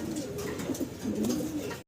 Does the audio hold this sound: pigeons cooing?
yes